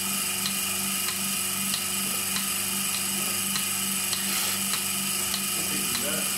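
A cow milking machine runs in a barn, its pump ticking in a steady rhythmic pulse over a constant mechanical hum, fairly loud and close.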